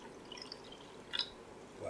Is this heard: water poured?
yes